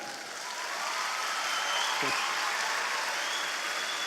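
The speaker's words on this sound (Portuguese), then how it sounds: "Pode aplaudir o Senhor, pode aplaudir." A church congregation at a Pentecost service applauds in a steady, broad wash of clapping that holds at an even level throughout, heard from a distance in a large hall, with no voices standing out.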